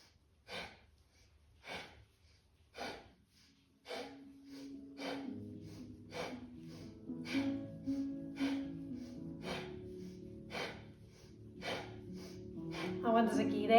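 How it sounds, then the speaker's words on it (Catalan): Sharp rhythmic breaths in and out through the nose during a morning kundalini kriya practice, a steady pulse of roughly one breath per second, close by, with soft music entering beneath after the first few breaths. "Tota l'estona respires pel nas."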